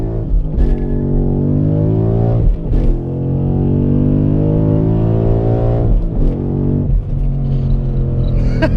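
A Ford Mustang engine revs hard and climbs in pitch through a long third-gear pull, loud and close, with brief dips at each gear change.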